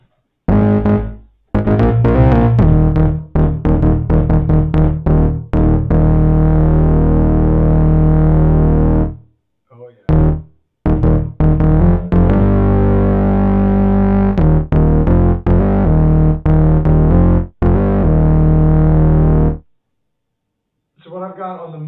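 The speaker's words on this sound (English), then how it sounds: "What I've got on the Moog Sub 37, this is my bass sound, and I have it set to 2 sawtooth waves split an octave apart" A Moog Sub 37 synthesizer plays a thick bass line from two sawtooth waves an octave apart, loud and buzzy, with rapid repeated notes, sustained tones and brief pauses between phrases.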